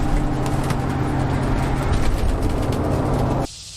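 Bus driving on a highway, a steady low engine and road rumble with constant wind and tire noise, loud and close, cutting off abruptly near the end.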